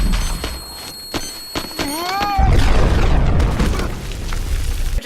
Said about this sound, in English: As he runs for cover, he is blown away by his own bomb.